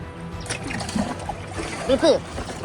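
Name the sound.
water being thrown to douse a fire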